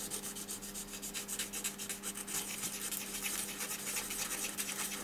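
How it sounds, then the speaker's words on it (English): Etch resist on a circuit board being rubbed and roughed up with an abrasive, a continuous rhythmic scratchy rasping of quick back-and-forth strokes, close and fairly soft, with no talk. "just rub this etch resist, and rough it up a little bit to give it something to purchase on"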